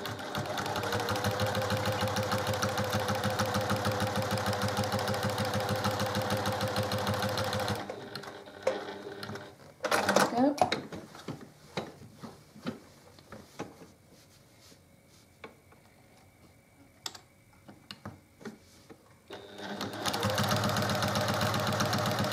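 A domestic sewing machine runs in a steady buzzing whir while straight-line quilting a simple squared quilt, then stops, leaving quiet handling clicks and rustles before the motor starts up again.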